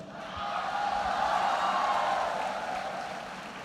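An audience at a 20th Foundation Day celebration, Kautilya Gaurav Diwas, breaks into a dense wash of clapping that swells and then gradually fades over a few seconds, with little talk over it.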